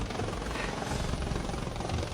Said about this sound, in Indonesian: Naik helikopter ke sekolah